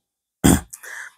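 A single short, harsh cough from throat irritation, close to the mic, followed by a faint breathy throat-clearing tail, otherwise silent.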